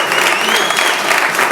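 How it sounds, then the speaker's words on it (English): Comedy club audience applauding a stand-up comedian, a dense, steady wash of many hands clapping close and loud for the full stretch, with a few whoops mixed in. "Clap it up for you."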